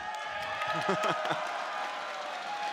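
A crowd at an esports match between Taipei Assassins and FNATIC applauds and cheers in a steady, distant wash of clapping, with a commentator's voice briefly rising over it.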